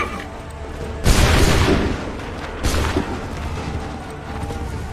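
Musket volley from a line of soldiers in Assassin's Creed 3, two loud ragged bursts of massed gunfire a moment apart, each trailing off into rumbling echo.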